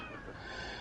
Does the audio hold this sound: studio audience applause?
no